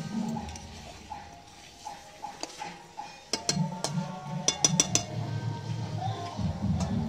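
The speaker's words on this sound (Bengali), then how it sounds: "আমরা চিকেনটাকে ঢেকে দেবো" A metal lid clinks and clatters onto a pot of desi chicken curry on a village stove, several sharp close taps clustered midway, over a low steady cooking hiss.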